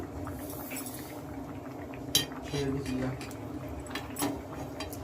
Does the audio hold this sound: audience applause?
no